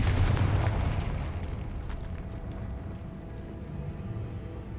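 A Confringo fire spell explodes in Hogwarts Legacy, a single heavy booming blast with a long rumbling tail that fades over several seconds.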